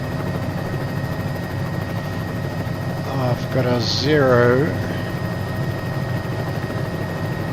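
A Bell 206 helicopter in a flight simulator game gives off a steady, moderately loud turbine and rotor drone throughout, with someone talking over it.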